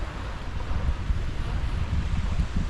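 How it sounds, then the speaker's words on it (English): Wind gusting steadily on Chesil Beach at Ferrybridge by the sea, a continuous broadband rush with low rumbling buffets, close and fairly loud, with no voices. "that wind is picking up a little bit now."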